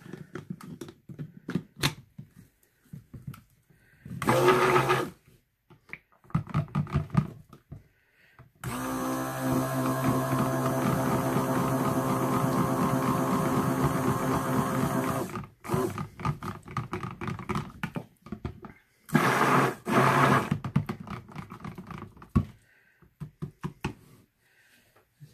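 A kitchen blender whirs steadily for about seven seconds while mixing thickening soap batter, set between bursts of clattering and handling noise, with no talking.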